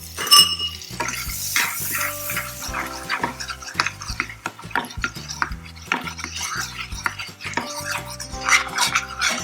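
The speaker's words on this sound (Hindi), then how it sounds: "बटर मेल्ट हो जाने के बाद मैं इसमें 1 छोटी चम्मच मैदा डाल के 1 मिनट के लिए भून लूंगी।" Flour roasting in melted butter in a pan, with a spoon stirring in quick repeated scrapes and taps against the metal over a gentle sizzle, close and fairly loud, with no one talking.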